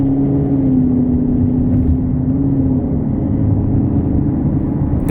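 A steady, low engine and exhaust drone from a car with a CORSA Extreme exhaust in normal mode cruising at about 40 mph, heard from inside with windows closed, a constant hum and road rumble.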